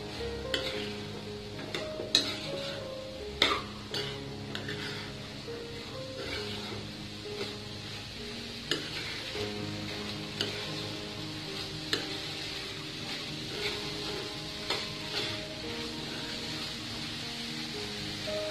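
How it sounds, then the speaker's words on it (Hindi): Black chickpeas are stirred in a pan for chana chaat, with a gentle sizzle beneath intermittent spoon knocks and scrapes, some sharper clacks standing out, and faint background tones throughout. "इसमें अब हम 2 कप काला चना ऐड कर देंगे। अच्छे से इसे मिक्स कर लेंगे।"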